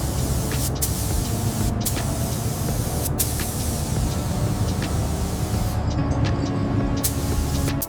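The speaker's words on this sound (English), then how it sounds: "We're laying down the final clear coat now, which really makes that cherry red pop." Spray gun laying the final clear coat over cherry red Olympic flame paint on a 1971 Triumph Trident T150 during restoration, giving a steady loud hiss throughout with brief sharper bursts.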